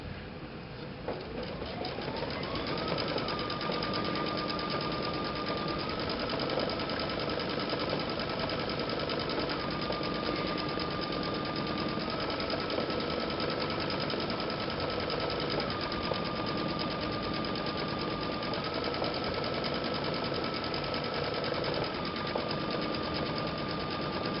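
A Baby Lock Solaris 2 embroidery machine stitching a single-stitch color, a steady fast mechanical whir and rapid needle chatter running continuously and close, with a thin high motor tone rising and dropping at intervals.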